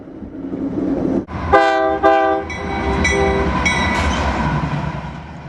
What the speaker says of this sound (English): This is a coal train moving through Glenwood Springs, Colorado.